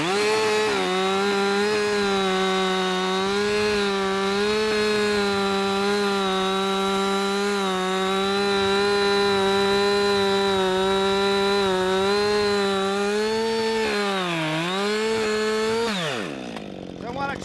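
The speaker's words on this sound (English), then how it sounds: "Now that the saw is into the wood, it will not turn on me." A chainsaw cuts into a tree trunk during felling with a loud, sustained engine drone that holds steady as it bites into the wood. Near the end it dips briefly, then winds down as the throttle drops.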